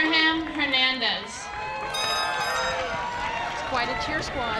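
A crowd at the El Segundo High School Class of 2019 graduation cheers loudly for a graduate, with high shouts and whoops rising over steady crowd noise.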